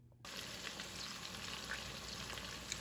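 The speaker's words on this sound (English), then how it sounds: "I'm frying bacon to go in the greens for flavor" Bacon fries in a pan for mixed greens, with a steady close crackling sizzle that starts abruptly and continues evenly throughout, with no voices.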